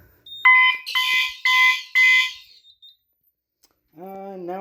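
A loud electronic System Sensor fire alarm horn blares in several pulses from the alarm panel, then cuts out; after a pause a voice speaks briefly.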